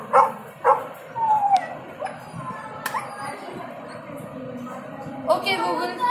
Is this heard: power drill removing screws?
no